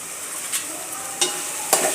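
Chopped tomatoes salted and sautéing in a pan for a fish curry give a soft steady sizzle, broken by three brisk scrapes of a spoon against the pan, close and without talk.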